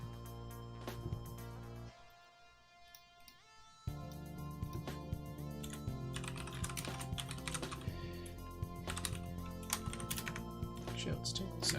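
Keys clatter on a computer keyboard during a long Python coding session for an online game. The taps come in rapid, close bursts, pause briefly, then pick back up into dense, continuous typing.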